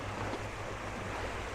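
Sea waves wash steadily onto the shore at Koh Larn near Pattaya, a continuous broad surf rush at moderate level with no voices.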